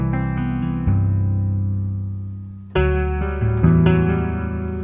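Sustained electric guitar chords drenched in reverb and compression, with a chorus effect in the mix, ring out alone and loud, each new strum swelling over long decaying tails.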